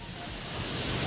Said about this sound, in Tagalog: Kung madenggan ni mo dari mga kasikas sa balud sa dagat.